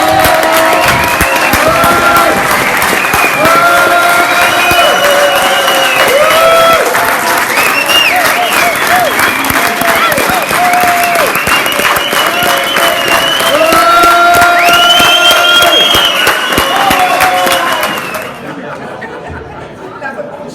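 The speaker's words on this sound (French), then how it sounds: "je voudrais un applaudissement." A large crowd at a regional union congress applauds loudly and continuously, with some cheering and chatter mixed in, before the clapping fades out at the end.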